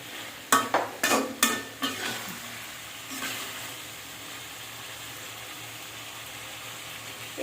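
Fish curry stirred in a pan, a few scraping strokes at first, then a steady sizzle and bubbling that fills the rest, close and moderately quiet with no talking.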